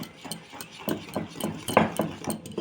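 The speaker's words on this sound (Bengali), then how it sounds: "আবার ভালো করে এটাকে ফাটিয়ে নেবো।" Egg beaten together with milk powder for a dry fruit cake batter, a quick rhythmic series of whisking taps against a bowl, close and steady, with no talk.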